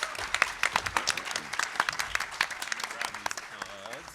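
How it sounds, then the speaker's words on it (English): Scattered, uneven clapping from a small audience at a live game show at PAX West, with talking mixed in over it. "let's give a round of applause to our 3 contestants"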